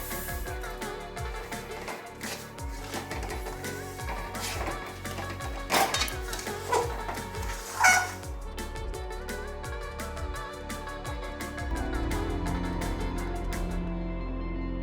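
Sesame seeds stirred in a metal pan on a gas stove, with repeated scraping and clinking of a spatula against the pan and a brief louder clatter near the middle, steady and close throughout.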